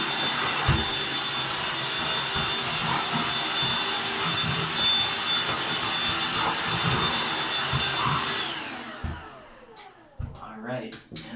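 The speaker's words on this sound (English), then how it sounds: "I'm going to give it a quick vacuum" A vacuum cleaner runs over a shower floor in a steady, loud, whooshing whine with scattered knocks as it moves, then winds down and stops near the end, leaving some clattering and a voice.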